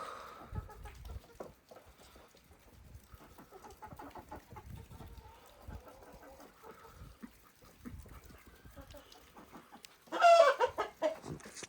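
Young chickens cluck softly and intermittently inside a coop, with quiet scratching and shuffling, then a louder burst of clucking near the end.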